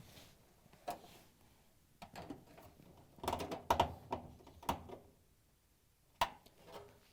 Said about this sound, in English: we can use the 1/4 inch nut driver to put the screw in